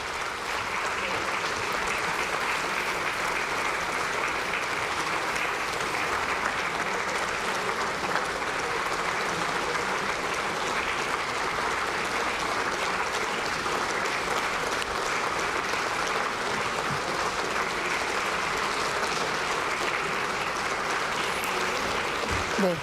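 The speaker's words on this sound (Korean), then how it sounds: "본회의장을 떠나면서 국민의힘 국회의원들과 박수로 인사를 나누고 있습니다." Lawmakers in the National Assembly chamber in Seoul clapping as the president leaves, a sustained, even roar of applause from a large room, moderately distant, with a faint voice underneath.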